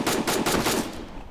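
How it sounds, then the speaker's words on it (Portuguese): Rapid bursts of video game gunfire crackle in quick succession, loud and close, forming a dense rattling volley that thins out toward the end. "Calma, para de dar tiro."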